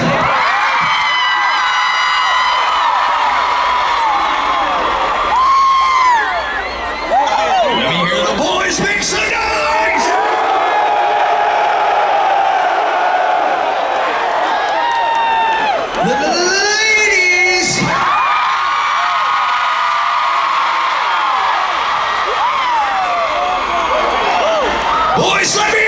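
Women in a rock concert crowd cheer and scream, a sustained roar of high shrieks and whoops, with amplified voices cutting in briefly.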